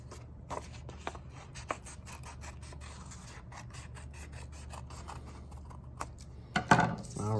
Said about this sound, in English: Take your scissors, keeping the paper folded, carefully cut along those lines you just drew.